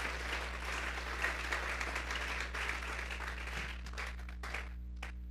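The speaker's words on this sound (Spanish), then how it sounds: "Vamos a darle un fuerte aplauso pues al Señor." A church congregation claps together in sustained applause during a sermon, a dense close wash of hand claps that thins out into a few scattered final claps.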